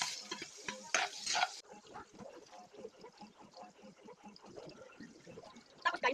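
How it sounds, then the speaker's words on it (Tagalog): Onion, garlic and hotdog frying together in hot oil, a soft crackling sizzle with stirring clatter, fairly quiet and close, with brief louder hiss bursts. "mainit na yung mantika. Ilalagay natin sibuyas, bawang, tapos tong hotdog guys."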